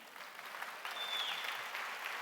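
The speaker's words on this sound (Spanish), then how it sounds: "Dar un aplauso al Señor." A church congregation claps together in a sustained round of applause during a sermon. The sound is fairly soft and even, with a brief high tone partway through.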